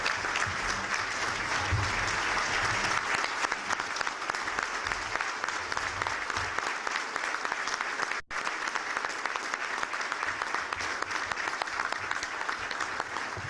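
Sustained applause from a chamber of commerce breakfast audience, a dense, even wash of many hands clapping that holds steady throughout, fairly loud and close.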